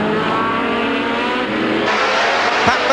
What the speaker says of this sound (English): Emerson Fittipaldi now in front of the Foyt Wallet Porsche and up to third place and closing on the Jaguars.